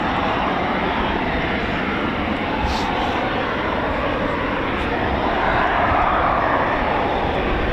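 A Eurofighter Typhoon FGR4 jet at RAF Coningsby roars in a loud, sustained, broadband engine rumble that holds steady from start to finish.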